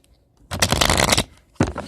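A deck of flashback plot twist cards riffled and cut close by, a dense burst of shuffling lasting under a second, followed after a short pause by a second quick snap of cards.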